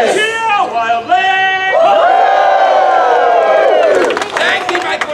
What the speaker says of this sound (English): Cheer wildly!